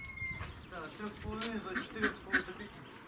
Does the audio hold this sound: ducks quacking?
yes